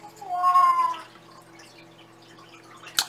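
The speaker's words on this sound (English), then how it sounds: "He's a grumpy old cat." A grumpy old cat, nearly 14 years old, lets out one drawn-out, rising and falling meow close by, followed by quiet room tone and a single sharp click near the end.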